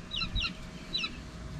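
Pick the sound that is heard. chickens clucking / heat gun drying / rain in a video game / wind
chickens clucking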